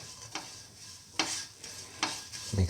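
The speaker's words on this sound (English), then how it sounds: "Thoroughly sort and mix." Spoon stirring and mixing soy chunk noodle ingredients with fennel powder in a pan, three soft scraping strokes at a steady pace, close and quiet, with a faint sizzle underneath and no talk.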